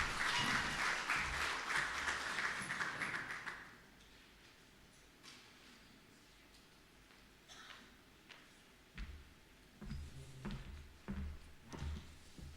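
Applause follows a minister's speech at a political dialogue. A crowd claps loudly for a few seconds and then fades into a quiet room with scattered taps, and a few more bursts of clapping come near the end.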